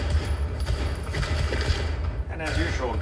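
Gunfire in the video game Hell is Us: rapid, crackling bursts of shots fired in quick succession, mixed with mechanical clatter and heard beneath a talking voice.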